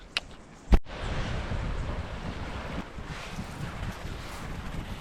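On an open beach, steady wind rumbles across the microphone over a continuous wash of surf, with a sharp knock near the start and no one speaking.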